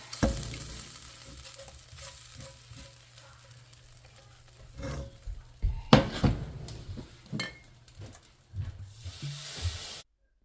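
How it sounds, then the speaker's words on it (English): Wine poured into a hot pan while cooking squash soup sizzles and hisses steadily, with scraping stirs and occasional clatter of utensils against the pan. "I poured a little bit more wine into the pan to kind of loosen the flavors in there"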